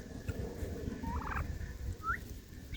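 Turkeys gobbling outdoors near a dog and a bear colt, with a couple of short warbling gobbles at moderate distance over a continuous low rumble of background noise.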